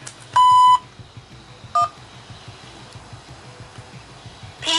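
An automated phone beep from a patient appointment line sounds: a long steady electronic tone, then a shorter one, and a final brief beep, over a low background hum.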